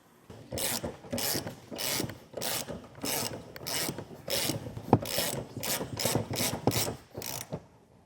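A ratchet cranks the spare tire up into place under a 2021 Hyundai. Rhythmic bursts of clicking repeat steadily and close by, with short pauses between strokes.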